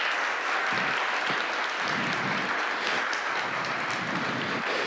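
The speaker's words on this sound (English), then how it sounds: "Give these people a huge round of applause." Dense, steady applause from a large crowd at a company gathering fills the room, a continuous roar of many hands clapping at an even level with no clear voices.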